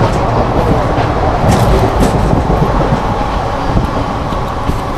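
Interior of a moving passenger train bound for Tarapith: a steady, loud rumble of wheels and carriage noise fills the cabin continuously, with no voices.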